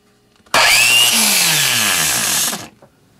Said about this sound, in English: Using another angle grinder, I've cut a window into the side of this grinder's case.